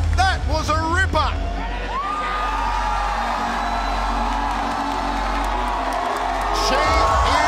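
A massive arena crowd at the Jakarta Convention Center roars and whoops at a mixed martial arts event, loud and sustained, with excited shouts rising and falling and a commentator talking over the din.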